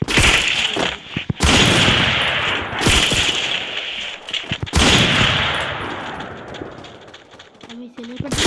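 Sniper rifle shots in a video game land as several loud, sharp cracking blasts, each trailing into a rumbling decay, spaced a second or two apart, with a voice briefly between them.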